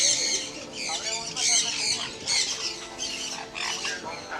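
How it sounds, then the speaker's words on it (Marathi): Various birds, including macaws, squawk and screech repeatedly in a bird park at Nisargadhama Reserve in Coorg, loud and close, with overlapping harsh calls throughout. "वेगवेगळे पक्षी इकडे आल्यावर फक्त पक्ष्यांचेच आवाज येत आहेत."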